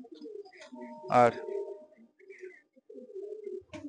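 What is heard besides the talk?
Malwai pigeons cooing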